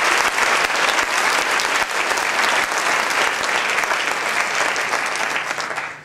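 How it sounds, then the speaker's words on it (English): An audience at a Kennedy High School event applauds community partners in one big round, a loud, dense, sustained wash of many hands clapping throughout, fading slightly at the very end. "Could you just please give them one big round of applause?"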